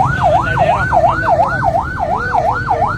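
An ambulance siren wails on a Karachi street, its rising and falling tone cycling rapidly and evenly, loud and close over a constant rumble of traffic.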